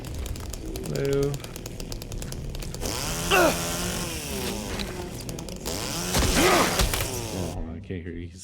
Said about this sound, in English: He's literally running a chainsaw.